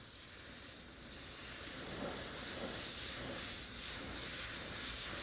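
An airbrush sprays reduced opaque yellow paint in a steady, close hiss that runs unbroken and fairly even throughout, with no talking.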